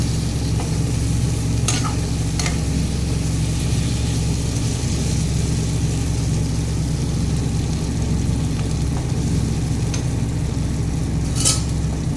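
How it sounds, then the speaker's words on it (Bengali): Pointed gourd frying with spices in a pan, a steady low sizzle running throughout with a few brief scraping stirs, close and alone. "আবারও একটু মশলার সাথে পটলটাকে ভালো করে ভেজে নেব।"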